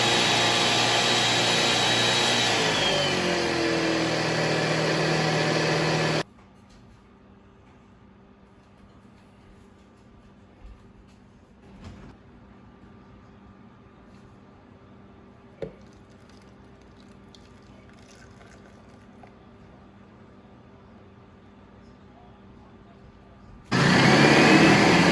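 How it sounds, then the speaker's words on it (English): A blender whirs loudly, blending cottage cheese with milk and gelatin for a no-bake Polish jello cheesecake. It runs for about six seconds, then stops. A long quiet stretch follows, and the motor starts again near the end. "And you're gonna wanna blend this till the cottage cheese is pretty smooth."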